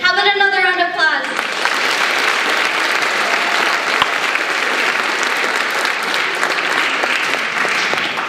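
Loud, sustained audience applause at a school performing arts awards show, a dense even roar of clapping that fills the whole stretch, right after a short spoken or sung phrase at the start.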